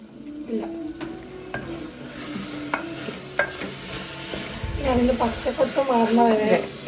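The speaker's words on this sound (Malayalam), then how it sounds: "ഇതിന്റെ പച്ചമണം മാറുന്നവരെ വഴറ്റിയെടുക്കുക" Garam masala sautéed in a pan gives a steady sizzle with scraping stir strokes, busier and louder near the end; a voice talks briefly over it.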